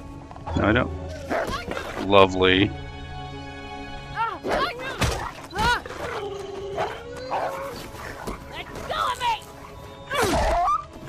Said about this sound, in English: So the whining sounds you hear in the background are my dog whining.